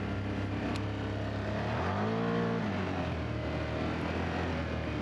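A 2025 Can-Am Outlander X MR 850 quad engine revs up hard, a loud steady drone that rises sharply in pitch around the middle and then settles, with no voices.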